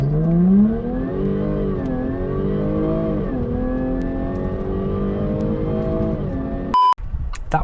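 A Jaguar F-Type pulls a hard launch-control run, its engine note climbing steadily through the gears with brief dips at each shift, loud and continuous for several seconds before it suddenly cuts off and gives way to a short electronic beep.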